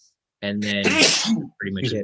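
A single sharp sneeze bursts out in the middle of a man's speech during a live online forex trading session, close and loud.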